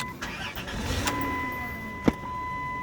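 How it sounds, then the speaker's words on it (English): A car engine cranks and catches, settling into a steady idle hum, with a sharp click partway through. "I start up the car engine"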